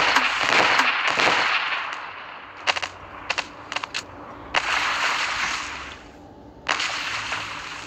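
Video-game gunfire from Melon Playground: a dense burst of rapid shots opens, followed by scattered sharp single and clustered cracks, then another sustained burst, loud and close with no talking.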